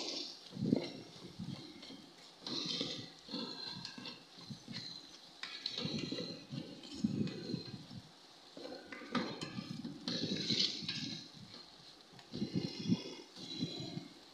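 Noodle seasoning stirred in a rice cooker, a series of close, bright clinks and scrapes of a utensil against the metal pot, coming in irregular bursts with short pauses between.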